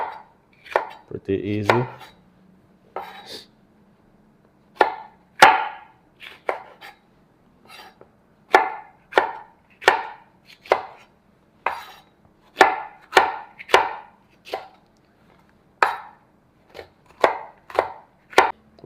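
A knife slices peppers on a cutting board, making sharp, close knocks that repeat in irregular bursts of single and quick double chops. A voice speaks briefly near the start.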